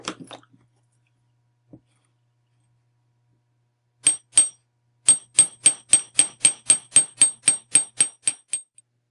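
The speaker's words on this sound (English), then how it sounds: "I'm hammering." A hammer strikes metal earring flares in a steady run of sharp, ringing taps after a few scattered knocks, close and fairly quiet.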